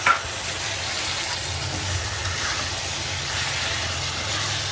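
Fish dropped into hot spiced oil with salt and masala in a pan sizzle in a continuous, even hiss after a brief clatter at the start, close and loud.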